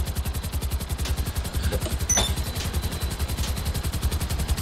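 Rapid automatic gunfire rattles without a break in the PC game GTA Online. The shots come as a fast, even, close, loud burst, with a couple of sharper impacts in the middle and no pauses.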